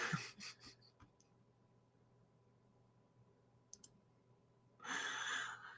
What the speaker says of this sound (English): Let's just keep listening to me click and poke buttons.